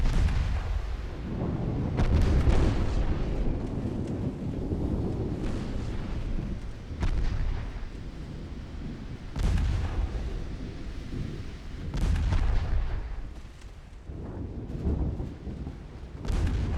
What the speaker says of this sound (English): There we go, torpedoes are hitting the cruisers.